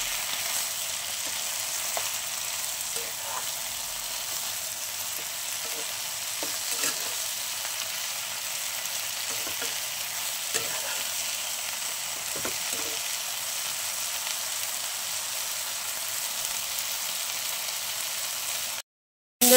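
Ghetkul leaves sizzle as they fry in a pan with salt and turmeric, making a soft steady hiss with occasional faint stirring scrapes and ticks. It is quiet and continuous, without talk, and cuts out in a brief silence at the very end.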